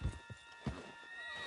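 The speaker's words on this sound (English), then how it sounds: "Put Strauss on the back of John's horse" A horse in the video game Red Dead Redemption 2 gives a short, close whinny while its hooves clop a few times beneath it.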